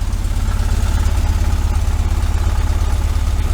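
A 1973 VW Super Beetle's air-cooled engine idles loud and near inside a garage, fitted with a Dellorto FRD 34B carburetor, giving a steady, rhythmic low chug with slight vibration.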